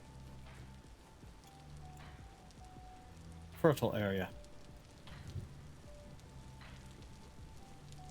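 Steady in-game rain in Vintage Story, a soft continuous patter running throughout, with a voice talking briefly over it.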